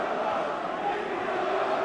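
Large boxing crowd in Wales roaring at a fight, a dense, steady wash of cheering and shouting with no breaks.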